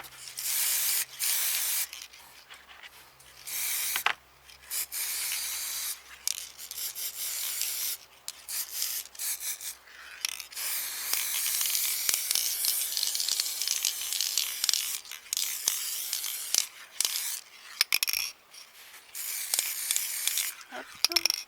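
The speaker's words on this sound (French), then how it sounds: "on va simplement bomber le couvercle là où on a collé le chat" Spray paint hisses from an aerosol can onto a glass jar lid in short and longer bursts, close and fairly loud, with pauses between passes and some soft handling noise.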